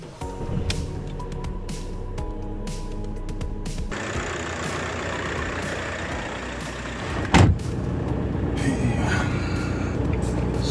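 A Seat Ibiza engine with a newly fitted starter motor, checked for a warm-start problem, cranks and catches around the midpoint, then runs steadily at idle. The broad engine noise is continuous throughout the clip, with a brief louder burst as it fires.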